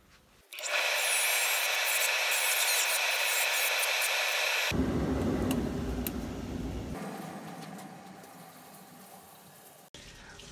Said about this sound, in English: now we need to polish this to make it nice and smooth again